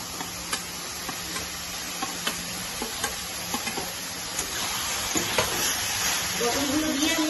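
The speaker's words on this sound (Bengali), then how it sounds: "পটলগুলো দিয়ে আমি একটু ভালো করে কষিয়ে নেব" Pointed gourd and potato pieces sauté in a pan for a vegetarian curry, a soft continuous sizzle with regular light taps and scrapes of a spatula stirring, close by, and some faint background noise.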